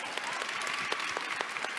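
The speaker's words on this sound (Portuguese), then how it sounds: "Palmas, pessoas." Audience clapping at a book fair panel session, steady dense applause from a crowd with no pauses, fairly close and moderately loud, a few sharper individual claps standing out.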